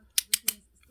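A Tego magnetic pivot slider gives three crisp, evenly spaced clicks close by, with the start of a fourth at the very end.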